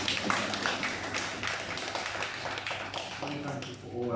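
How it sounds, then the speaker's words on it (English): A church congregation at a New Year's watch night service claps in a dense, steady patter of many hands that fills the room for several seconds, with faint voices mixed in. "Can we give them a clap?"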